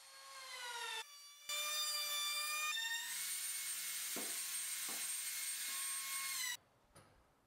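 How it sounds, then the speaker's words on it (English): A table saw or similar power saw takes light skim cuts along all four edges of built-in cabinet doors to square them, a loud steady high whine running for several seconds with brief pauses between passes. "I'm just doing skim cut on all four sides to make sure the door is nice and square."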